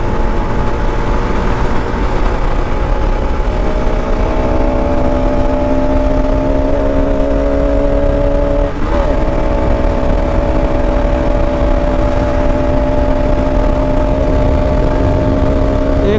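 Steady loud drone of a car cruising fast on a single-lane expressway, a constant engine and road roar with tonal hum lasting throughout, no talk.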